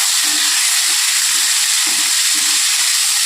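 Garlic dropped into hot oil with popped mustard seeds, frying with a steady bright sizzle and soft bursts of stirring or crackle throughout, no talking.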